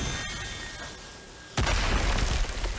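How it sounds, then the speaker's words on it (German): A sudden loud crashing burst after a quiet stretch as a door is smashed apart in the video game God of War Ragnarök, followed by a continuing clattering rumble of debris. "Er macht die Tür einfach kaputt."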